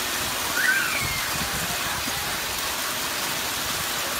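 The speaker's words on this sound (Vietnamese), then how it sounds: "Đá rơi trắng như hạt ngô các bạn xem này, rất là khủng khiếp." Heavy hailstorm on the first day of Tet 2020 in Tam Nông, Phú Thọ, with white corn-sized hailstones pelting down as a dense, steady roar of impacts throughout, close and loud.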